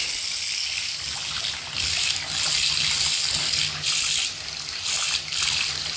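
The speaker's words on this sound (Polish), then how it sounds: "teraz ustawiam wodę jaka ma lecieć" Tap water runs steadily in a bright, hissing stream that swells and eases in a few pulses, close by, with no voices.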